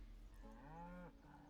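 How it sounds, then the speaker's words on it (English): A single moo from an ox in Baldur's Gate 3, a short, fairly faint bovine call about half a second long, heard alone. "Okay, so he actually sounds like moo."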